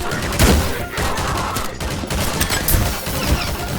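Rapid gunfire from a Garry's Mod match, dense overlapping shots crackling continuously at close range with a few heavier bursts, and a faint voice low in the mix.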